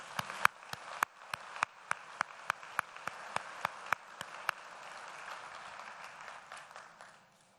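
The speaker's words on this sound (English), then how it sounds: "Let's give them a round of applause." Sparse applause at a university winter commencement: about fifteen sharp, separate claps in a loose, steady rhythm over faint room hiss, thinning out and stopping well before the end.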